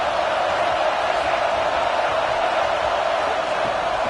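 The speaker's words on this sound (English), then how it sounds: "this crowd is making it miserable on this offense" A packed stadium roars without letup during a Gators college football game against the Fighting Illini, a loud, steady wash of crowd noise with no single voice standing out.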